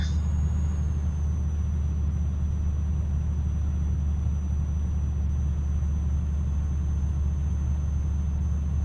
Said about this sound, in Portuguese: tá subindo bem a Scania. Subidinha pesada dessas, eu acho ela pesada.